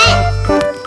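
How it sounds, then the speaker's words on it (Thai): A loud, synthetic-sounding cat demon meow in the Roblox game Key cuts through busy game audio with music and effects, brief and close. "ปีศาจแมวมันมาแล้ว"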